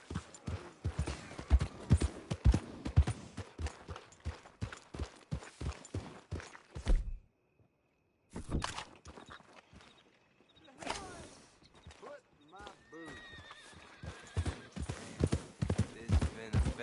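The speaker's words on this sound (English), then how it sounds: "Somebody get this horse to stop moving." Horse hooves clip-clop steadily in Red Dead Redemption 2, a dense run of close, loud hoofbeats that stops for about a second of silence, then resumes more sparsely alongside game sounds and brief voices.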